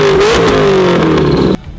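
A Chevrolet Camaro engine revs loudly and close by, its tone rising and then sagging over about a second and a half before cutting off abruptly to a low background.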